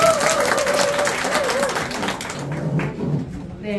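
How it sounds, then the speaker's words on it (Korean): An audience in a packed lecture room applauds, with dense, steady clapping filling the room for several seconds before it thins out, as a voice speaks over the end. "큰 박수 한번 부탁드리겠습니다"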